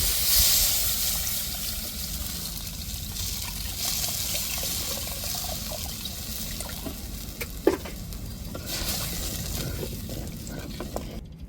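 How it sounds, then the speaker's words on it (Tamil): Dissolved tamarind water poured into a simmering fish curry with tomato, chilli and masala powder, a steady liquid splash and sizzle running throughout, close and moderately loud, with one brief clink of a utensil. "இப்போ கரைச்சி வச்சுருக்கிற புளியை சேர்த்துக்கிடுவோம்"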